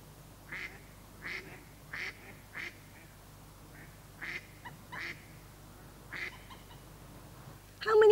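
Ducks quack in short nasal bursts, about a dozen spaced irregularly over several seconds, fairly faint against a quiet outdoor background.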